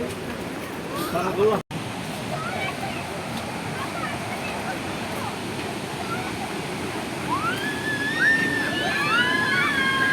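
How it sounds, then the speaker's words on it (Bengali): Steady rushing water of Hundru waterfall on a hillside, a constant broadband roar, with brief voices and a high whistling or squeaky tone near the end. "ওয়াটারফলস জলের শব্দটা কি সুন্দর আসছে"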